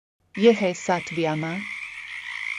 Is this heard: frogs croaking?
yes